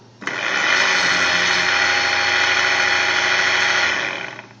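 An ABS motor module pump from a car's brake system is powered up on a bench. It gives a loud, steady electric whine and buzz that starts abruptly, runs evenly for about four seconds, then cuts off.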